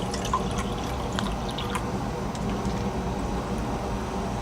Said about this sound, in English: And we need another 100 milliliters of water.